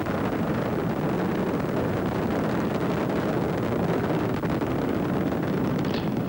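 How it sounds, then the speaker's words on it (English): Space Shuttle Discovery's three main engines roar during launch ascent on the STS-63 Mir rendezvous mission in 1995, a steady, dense, rumbling wall of noise with crackle, heard distantly and continuously without speech. "Three engines on Discovery now throttling down to 2/3 throttle to prepare the spacecraft to pass through the area of maximum air pressure and go supersonic"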